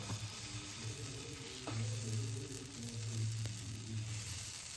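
Sweet potato pancake batter spreads over a hot dosa griddle with a steady, close sizzle that swells as it's poured, with faint clinks and no talking.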